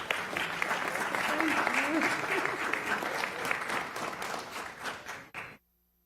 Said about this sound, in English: Councilman Dale Hurst, y'all give a round of applause.